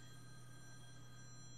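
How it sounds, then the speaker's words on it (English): Telephone ringing faintly in the background of a sports recap podcast, a steady electronic ring held over a low constant hum, with no talk during the ring. "Sorry for the phone in the background."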